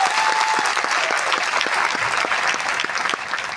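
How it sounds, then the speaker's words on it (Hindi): An audience at a Modicare direct-selling meeting in Banaras gives a dense, steady round of applause that fills the room evenly, easing slightly near the end. "चलो एक तालियां इसके लिए बजती है आपके लिए"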